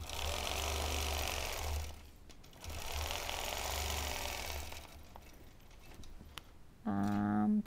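A longarm quilting machine stitches crosshatch lines guided by a ruler, its steady motor hum running in two long bursts with a brief pause between, then quieter handling noises and a sharper mechanical whir at the end.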